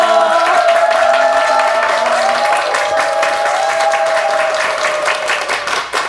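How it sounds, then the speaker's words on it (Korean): A studio audience on a Korean morning talk show claps in a steady, full round of applause to welcome a guest, gradually thinning toward the end. "여러분 박수로 맞아주시기 바랍니다"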